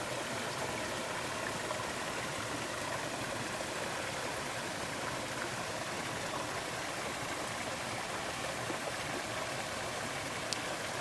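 Two waterfalls give a steady broadband rush of falling water, faint and continuous throughout, with no voices.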